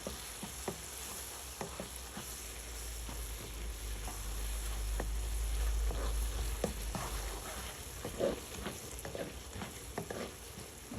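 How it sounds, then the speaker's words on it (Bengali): Spice paste fries in a pan for a spicy loitta shutki bhuna, a steady close sizzle with scattered scraping clicks from stirring and a low hum underneath, with no talk. "মশলাটা একটু ভালো করে ভেজে নিলাম"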